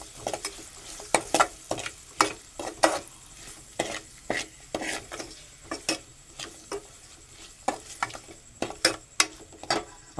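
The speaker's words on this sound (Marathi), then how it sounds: "ढवळून घेऊ." A spoon scrapes and knocks around a pan of brinjal, potato and drumstick curry with salt, sharp irregular clinks over a soft sizzle, close up.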